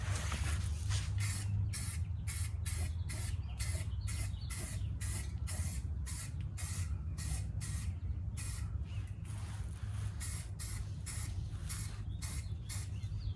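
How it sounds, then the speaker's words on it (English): Rust-Oleum spray paint can coating a car's front crossmember reinforcement in a series of short, sharp hissing bursts with brief pauses between them, close and fairly loud, steady in rhythm. "So now all we got to do is add a little paint and reassemble. Already shook up the can."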